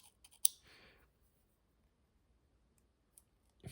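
A Smooth Precision Pen Mini in stonewashed titanium gives a few light clicks, then one sharp, close click, followed by near silence and a faint final tick.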